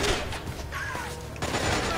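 Enemy gunfire in Splinter Cell Conviction crackles as a short burst of rapid shots, fairly loud and busy, mixed with game ambience and a voice.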